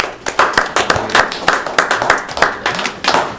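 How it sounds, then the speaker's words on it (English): People at a finance committee meeting clap their hands, a loose, uneven patter of claps from a small group, nearby and steady for a few seconds. "Everyone that comes through gets a clap."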